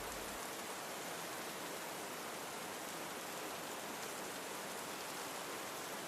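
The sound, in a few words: rain outside a cabin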